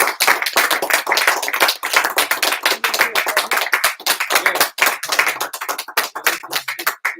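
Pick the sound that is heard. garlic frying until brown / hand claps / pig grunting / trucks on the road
hand claps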